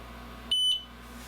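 An xTool F1 laser engraver gives one short, clear electronic beep, loud and steady for about a quarter second over a low background hum, with no talking.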